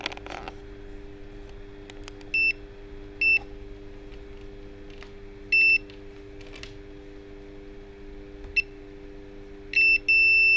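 Short electronic beeps at a steady pitch from a multimeter in continuity mode, checking a laptop motherboard for short circuits, several brief tones spaced irregularly over a constant low hum.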